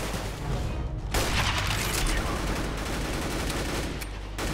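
Revolver gunfire in Counter-Strike: Global Offensive, a loud, dense barrage of shots and booms that runs almost continuously from start to finish.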